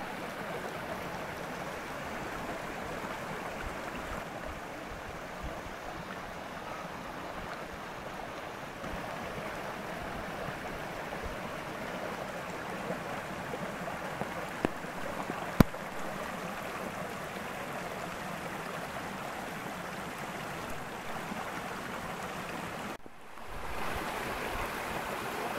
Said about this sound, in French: Il y a ce joli petit ruisseau